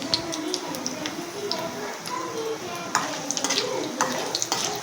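Food fries in a pan with salt, turmeric and chili powder added, a steady close sizzle with occasional stirring and light scrapes of a utensil against the pan, running on without pause.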